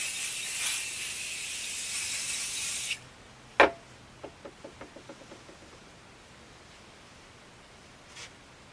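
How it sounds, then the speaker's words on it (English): Spray baste hisses from an aerosol can onto quilt fabric in one loud sustained burst of about three seconds, followed by a sharp clack and a quick run of fading small taps. "I'm just going to spray my spray base on here"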